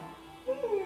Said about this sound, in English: Also, there was dog.